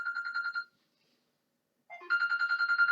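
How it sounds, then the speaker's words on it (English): A phone ringtone for an incoming call: a pulsing electronic melody plays, stops for over a second, then returns louder with a repeating patterned tune, close and clear with no talking. "And I'm getting a phone call."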